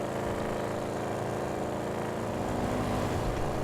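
An Audi RS6 engine pulling hard at high speed in GTA 5, a dense, steady roaring drone that climbs slightly, loud and close, with no talk.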